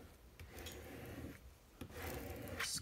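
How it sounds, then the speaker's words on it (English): A plastic scraper rubs steadily across transfer tape on cut vinyl for a song plaque, giving a close, continuous scratchy friction sound in repeated back-and-forth strokes. "scraper to make sure the transfer tape lifts off my vinyl"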